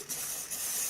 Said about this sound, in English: To kind of glue the glitter into place, I'm going to use some hairspray